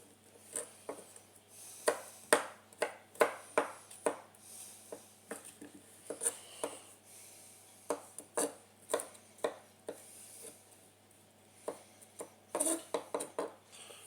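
A knife finely slices bashed garlic on a cutting board in quick, crisp chops, clustered in bursts with brief pauses between them, close and clear with no talking.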